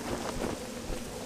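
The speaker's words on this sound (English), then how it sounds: "Now we've got to walk in the rain, which isn't particularly nice" Steady rain hisses across the landscape in the video game Morrowind, a continuous wash of falling drops with a low rumble underneath, no voices.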